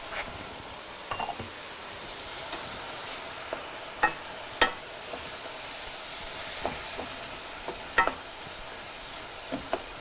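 Ground beef seasoned with salt and black pepper browning in a pan, a low steady sizzle with scattered sharp clicks and taps from the utensil at irregular intervals.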